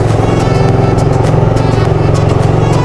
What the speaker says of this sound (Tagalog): ipapasok natin yung motor